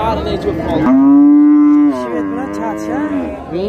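A single cow or heifer at a livestock market lets out one long, loud, close moo with a steady tone, followed by a shorter, wavering bellow, with faint market background around it.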